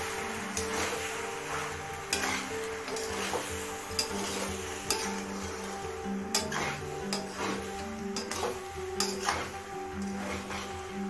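Pasta stir-fried in a pan with capsicum and green chillies, a steady sizzle under repeated scraping and clinking strokes of a spatula, close and continuous with no talk.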